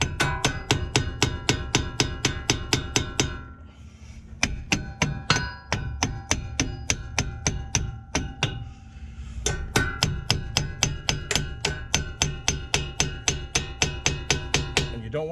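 A hammer strikes a brake part on a 2019 Subaru Impreza during a pad change, a long run of rapid, evenly spaced metallic blows with two brief pauses, close and sharp throughout.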